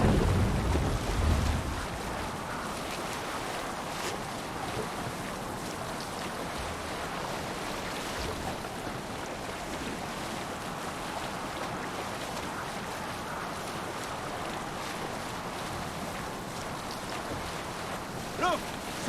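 Sailing boat on ocean waves in a video game, a steady wash of wind and surf that runs the whole length, with a louder rush at the very start.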